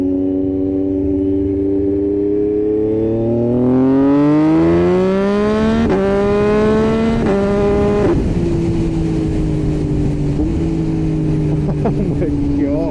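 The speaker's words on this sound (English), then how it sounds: "let's go on the highway. See how it sounds. Oh, the pops as well." A 2024 MT-09 motorcycle with a Racefit Growler X exhaust roars loudly up through the gears on a highway, pitch climbing then dropping at each shift, with crackles and pops between.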